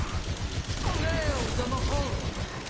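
Overwatch gameplay with rapid D.Va handgun fire mixed into a busy, continuous battle din, steady and fairly loud, with someone talking over it.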